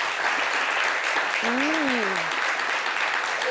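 An audience applauds a couple at a fashion show, a dense, steady clapping that fills the room, with a voice briefly heard over it.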